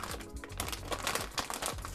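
Plastic packet from a DL Audio Piranha WK speaker installation kit crinkling and rustling as it is handled and opened, a dense run of close crackly crumpling with no talk over it.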